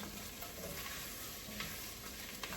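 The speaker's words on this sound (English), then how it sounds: "So we're going to stir this up." Aegean bean fasolada being stirred in a pot over medium-low heat, with a steady close scraping churn and a soft sizzle running throughout and no talking.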